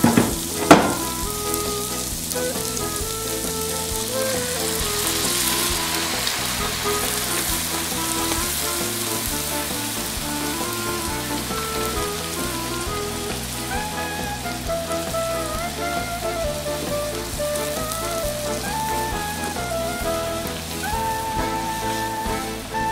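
Cream sauce bubbling and reducing in a pan over high heat, a steady close sizzle and crackle like rain on a surface that holds evenly throughout, with a brief knock at the start.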